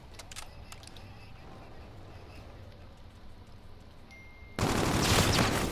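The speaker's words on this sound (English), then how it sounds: "They both shot at me." Gunfire in Call of Duty: Infinite Warfare crackles faintly, then erupts into a loud, dense burst of rapid shots near the end, with players' voices talking in the background.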